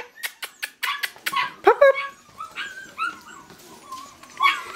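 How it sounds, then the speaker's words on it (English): Several six-week-old puppies whimper and yip in high, thin bursts, starting with quick sharp yelps and trailing into softer whines, close by. "Puppies!"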